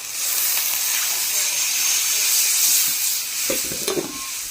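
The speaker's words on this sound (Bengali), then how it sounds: "ঝোল টকবক করে ফুটছে, এর মধ্যে আলু দিয়ে দিয়েছি" Hilsa fish curry gravy with potatoes boils vigorously in a pan after hot water is added, a loud, dense bubbling hiss with a few stirring knocks toward the end.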